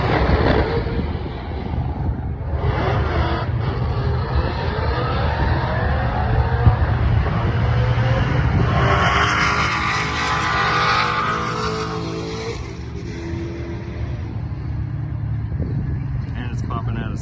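A 1964 Ford Falcon with no power steering or brakes running on a road course, its engine droning steadily and rising in pitch as it accelerates, heard under near continuous talking.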